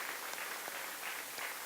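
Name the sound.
audience applause for a speaker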